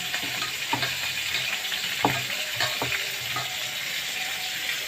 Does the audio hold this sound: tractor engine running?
no